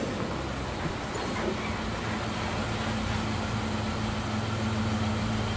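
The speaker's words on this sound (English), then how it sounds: "The sound of an engine working brought me back to reality. A bus pulled over." A bus engine idles in a video game as the bus pulls over, a steady low rumbling hum with a faint high electronic blip near the start, continuous and moderately loud throughout.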